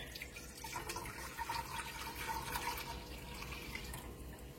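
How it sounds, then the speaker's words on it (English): Vinegar poured from a container into a pot on a kitchen stove, a steady close splashing trickle of liquid lasting several seconds with no talking. "So we're going to put our vinegar in."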